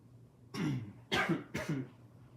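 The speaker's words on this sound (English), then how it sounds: "Excuse me, I had to clear my throat." Three rough throat clearings in a row, close and fairly loud, each a short gravelly burst with brief pauses between.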